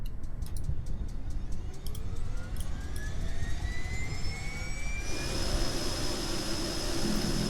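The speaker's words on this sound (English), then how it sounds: "So let's start our engines back up." Spacecraft engines spin up in Kerbal Space Program near the ice caps, a rising whine that climbs in pitch over a steady rumble and then settles into a loud, constant jet-like roar.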